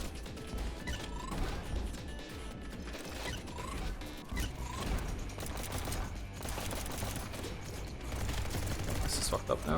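Rapid gunfire from a fast first-person shooter game, dense bursts and clanking mechanisms layered over driving game music, continuous and loud throughout with no pauses.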